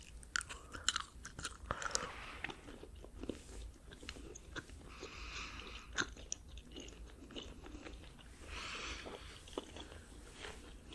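Chewing gum is worked close to the microphone in a soft ASMR setting, with moist, sticky smacks and small crunchy clicks in an irregular rhythm and no talking.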